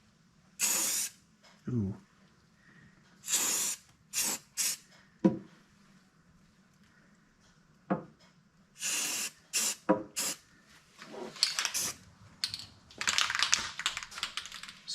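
Short bursts of aerosol paint sprayed onto a Porsche 944 part, roughly ten separate hissing blasts of varying length, close and fairly loud, with a brief voice in between.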